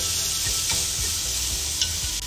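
Chopped vegetables for veg soup stir-fry in a hot pan with steady sizzling, broken by rhythmic scraping strokes of a spatula, close and fairly loud throughout.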